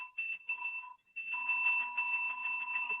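A bell rung during a live union talk show, giving a steady two-tone ringing with a short break, fairly clear and alone without talk.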